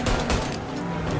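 Gunfire from the video game Mafia Definitive Edition: two or three quick, loud bursts in a second, with a vehicle rumbling beneath.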